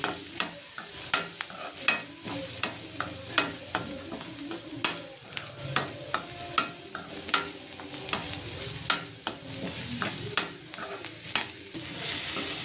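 A spoon scrapes and stirs turmeric and spices in a hot pan for a paneer butter masala, rhythmic clinking strokes about once a second over a soft sizzle, no talking.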